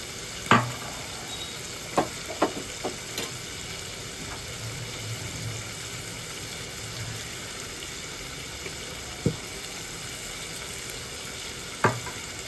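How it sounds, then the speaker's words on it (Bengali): Homemade chicken chilli with soy sauce gets stirred in a sizzling pan, a quiet steady fry punctuated by occasional sharp clanks and scrapes of the spoon against the pan. "এটা ভালো করে মিক্স করে নিচ্ছি আমি।"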